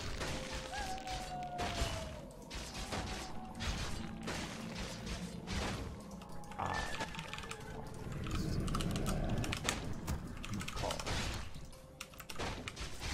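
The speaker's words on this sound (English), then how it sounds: "the keyboard is loud just because I press buttons really hard" Loud, hard-pressed computer keyboard keys clattering fast and constantly during a Warcraft 3 match, with game sound effects and some talking mixed in.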